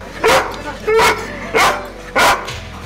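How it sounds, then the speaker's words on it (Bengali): Foreign-breed guard dogs barking on a cattle farm: four loud, evenly spaced barks close by, with a quieter background between them. "অচেনা কারো দিকে চোখ পড়লে ডাকাডাকি শুরু করে ডগ স্কোয়াডের প্রত্যেকটা কুকুর।"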